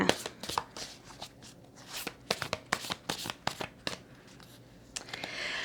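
Tarot cards are shuffled and drawn by hand: quick papery riffles and sharp snaps in irregular bursts, close and fairly quiet, with a faint voice now and then.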